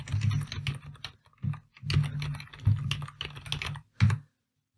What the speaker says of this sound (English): So here, if you type some data,